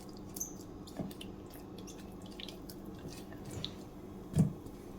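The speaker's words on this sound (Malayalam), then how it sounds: "എല്ലാം കൂടെ ഒന്നുകൂടെ മിക്സ് ചെയ്ത് കൊടുക്കാം." Dosa batter mixed with Eno fruit salt for bun dosa, soft wet squishing and a few light drips, close and fairly quiet, with one thicker squelch near the end.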